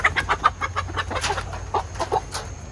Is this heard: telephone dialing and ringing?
no